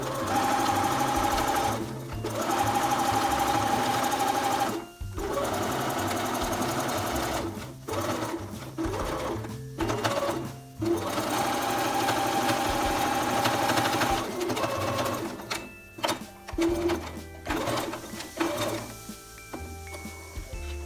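A sewing machine runs in steady bursts while stitching elastic onto the leg openings of men's underwear, starting at the elastic seam. The close, loud whirring stops and restarts several times, with no talking over it.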